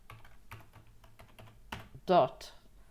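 Keys clack in an irregular run on a computer keyboard while code is typed, a steady near patter of light taps followed by a brief louder burst near the end.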